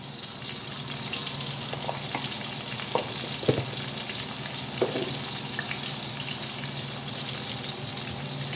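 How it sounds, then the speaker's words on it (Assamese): Potatoes fry in a pan with a constant close sizzle, broken by a few soft clinks and scrapes of stirring. "মই আলু কেইটুকুৰ ভালদৰে নমচুৱাকৈ ভাজ খোৱালৈকে ভাজি থাকিম"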